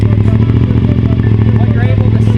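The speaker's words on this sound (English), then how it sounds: "go ahead and fire up the motorcycle" A motorcycle engine idling steadily with a strong low, even throb, loud and close, while someone talks over it.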